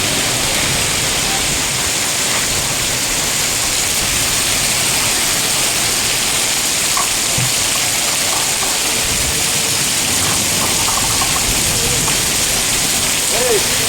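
Heavy rain pours in Vaniyambadi as a loud, steady, unbroken hiss for the whole stretch, with no distinct drops standing out.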